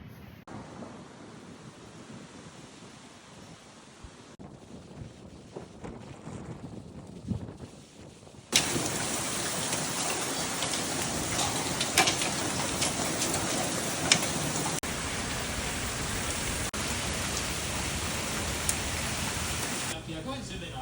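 Rain and small hail from an Oklahoma storm, soft at first then suddenly pouring in a loud, steady hiss with scattered pelting hits that continue to the end.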